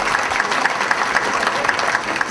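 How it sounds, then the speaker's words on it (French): At a volunteer appreciation evening, an audience claps steadily, a dense, even wash of applause from a sizable crowd with no voices rising above it. "merci, une bonne main d'applaudissements, M. Bernardin"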